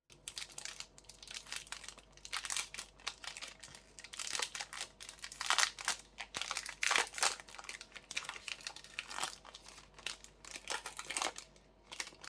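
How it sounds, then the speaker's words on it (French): Crinkly foil wrapper of a trading card booster pack being carefully torn open, a steady run of close, crackling rustles and tears with no voices. "Troisième booster. On va essayer de l'ouvrir proprement, celui-ci."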